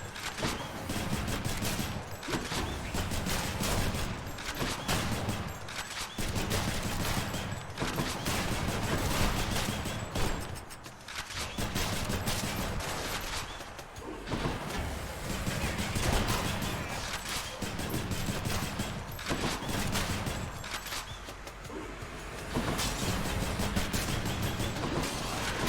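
Gun firing bullets in the action game Hades, bursts of rapid shots layered with combat effects and music, dense and loud across the whole stretch with short dips between volleys.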